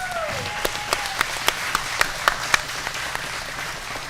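A small crowd claps at a Brazilian jiu-jitsu grappling event, 10th Planet Friday Night Face Off, with scattered sharp claps fading out over a few seconds under a low buzz of voices.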